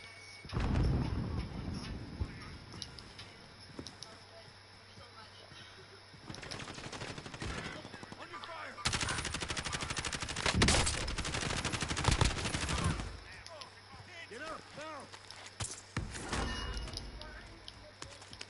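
Gunfire from a shooter in a PS4 video game rattles in several bursts of rapid automatic shots, some close and loud, others more distant, mixed with game noise while someone talks over it.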